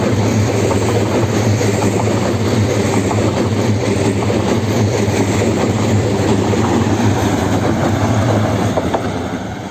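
A PESA Dart ED161 electric passenger train passes close by near Warsaw West station in Poland, a loud, sustained rumble with rhythmic clickety-clack of wheels over rail joints throughout.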